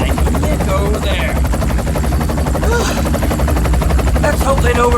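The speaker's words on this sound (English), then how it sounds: "That bastard helicopter waking everyone in the middle of the night." A helicopter passes overhead at night with a loud, continuous rhythmic rotor thump that fills the whole stretch.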